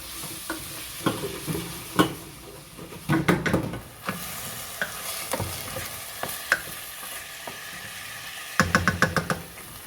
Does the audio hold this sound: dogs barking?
no